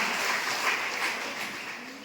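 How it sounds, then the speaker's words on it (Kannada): Steady, dense clapping from an audience at a taluk-level women's federation office-bearers' convention, sustained and fairly loud for the whole stretch with no voices over it. "ಗೀತಾ ಮೇಡಮ್ ಅವರಿಗೆ ಅವ್ರೊಂದು ದೊಡ್ಡ ಚಪ್ಪಾಳೆಯನ್ನ ಕೊಡೋಣ"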